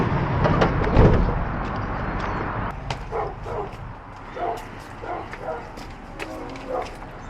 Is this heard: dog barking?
yes